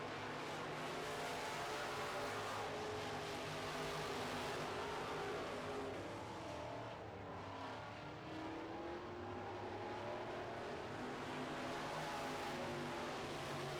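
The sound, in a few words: Midwest Modified race cars racing on track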